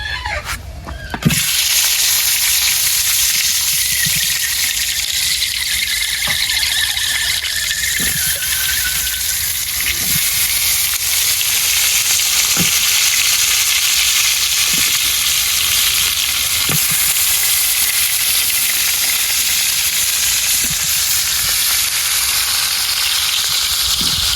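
Tomatoes hit hot oil with a sharp burst, then fry in a strong, steady sizzle in a village kitchen, with regular clicks and taps of a stirring utensil throughout.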